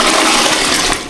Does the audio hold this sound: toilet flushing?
yes